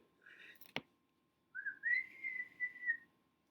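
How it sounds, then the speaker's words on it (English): A high-pitched whistle rises and holds for about a second and a half after a brief sharp click and a faint short warble, heard alone and fairly quiet against a silent night. "A high-pitched whistle split the night."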